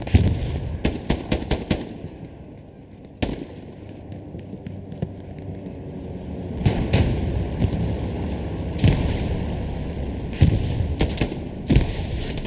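In the World War II shooter Hell Let Loose, a grenade explodes amid dense gunfire, with rapid machine-gun bursts, scattered single shots and heavy booms, all loud and close across the scene.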